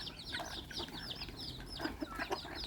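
Bantam chickens cluck and chatter softly at evening feeding time on a farm in Chanthaburi, a busy overlapping flock at a modest distance with no voices.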